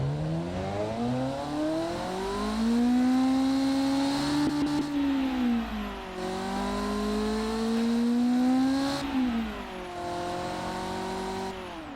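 A simulated car engine in the Automation game, built with maximum stroke and maximum compression, revs up and down through several rising and falling sweeps, loud and close with no talk.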